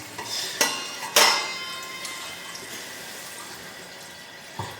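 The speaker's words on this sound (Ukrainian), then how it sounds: "набираємо воду холодну ставимо нагрітись." Cold tap water runs into a pot set to heat in a home kitchen in Italy, with two sharp metallic clanks of the pot near the start, then a steady soft stream of water.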